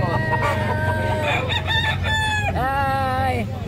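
Roosters crow loudly with drawn-out calls and hens cluck at a pet market in Bocaue, Philippines, set against a steady background hum of animals and crowd noise.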